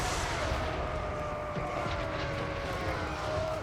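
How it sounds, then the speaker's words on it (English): Dwarf flame cannons in Total War: Warhammer 3 fire in a continuous roaring, rumbling barrage. The blasts are loud and sustained, with a faint whine running over the battle din. "first flame cannons firing away"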